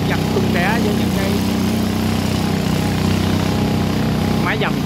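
Long-tail boat motor droning steadily at close range as the boat pushes through water with patches of water hyacinth; a loud, continuous mechanical hum runs under talk.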